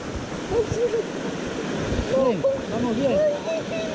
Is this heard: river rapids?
yes